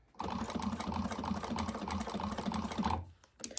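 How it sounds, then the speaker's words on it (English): Sewing machine stitching the back panel of a bag onto its base, a close, fast rhythmic mechanical whirr running steadily for about three seconds, then stopping, followed by a few handling clicks. "I'm going to go ahead and stitch this panel the back panel on"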